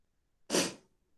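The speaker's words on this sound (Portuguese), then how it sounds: "Deu vontade de espirrar." A single sharp sneeze, close and loud, bursting out of near silence and fading quickly.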